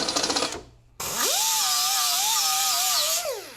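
A power drill spins up to clean out a freshly drilled hole in a Toyota 4Runner body panel for a rivnut, with a steady, loud whining run of a couple of seconds after a short burst.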